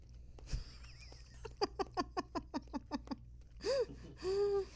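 A person's voice imitates a child chewing oatmeal, a steady series of about nine short, wet, rhythmic smacking sounds, close and fairly loud, followed by a couple of drawn-out vocal noises.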